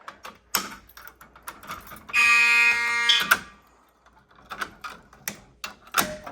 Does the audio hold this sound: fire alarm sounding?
yes